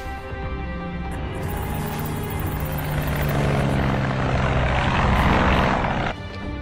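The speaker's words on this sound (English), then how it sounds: "This plane will get you where you need to go." A propeller aircraft flies in an action film scene, giving a steady, loud droning roar that swells toward the end before cutting off abruptly, with no voices.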